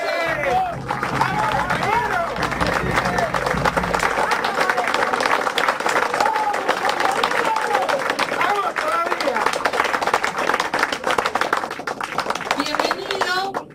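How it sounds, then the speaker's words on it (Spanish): Loud, sustained applause and crowd noise at a Peronist Justicialista party gathering in San Martín, greeting an arriving guest; an amplified voice talks over the clapping at the start, and cheers and babble run through it. "Un fuerte aplauso."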